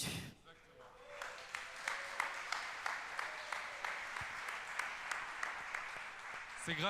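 Audience applause at the opening of a graduation ceremony for the 2021/2022 class, heard as sustained, fairly faint clapping from a crowd with a steady rhythmic pulse that continues throughout.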